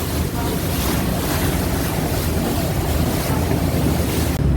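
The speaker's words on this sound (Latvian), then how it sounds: "esam iekāpuši tādā smieklīgā laiviņā" A small passenger boat motors along a river in Bangkok, giving a loud continuous rumble of engine and rushing water with heavy wind buffeting on the microphone.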